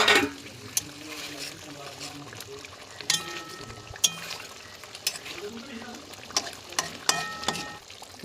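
Fish being stirred into a simmering curry sauce with a little sugar and garam masala, bubbling sizzle with intermittent sharp spoon clinks against the pan, close and moderately loud.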